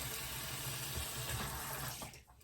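Water runs steadily from a bathroom tap during face washing with a hydrating gentle cleanser, a continuous broadband hiss with some low splashing that cuts off near the end.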